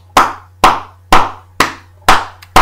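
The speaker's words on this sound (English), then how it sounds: "I just want to give a round of applause" Six slow, evenly spaced claps from a single person, sharp and close, each ringing briefly before the next, over a steady low hum, during a sports talk show.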